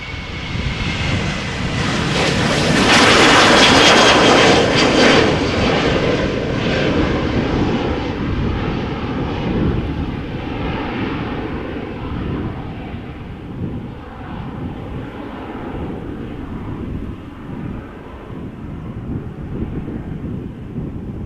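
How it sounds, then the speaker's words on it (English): Corendon Airlines Boeing 737 departing Amsterdam Schiphol on a windy day, jet engine roar building loud and close, then fading into a long rumbling wash with wind noise, no talking. "Another 737 coming this way. Corendon Airlines."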